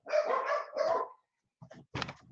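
Several dogs bark outside a house as someone walks past in front, a burst of loud, close barks followed by a pause and then a few sharper, scattered barks.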